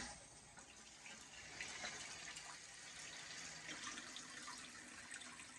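Water rushes steadily into a toilet tank through a newly replaced fill valve, a continuous even hiss and splash heard up close with no talking.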